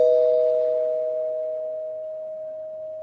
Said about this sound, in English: One last time with the bell.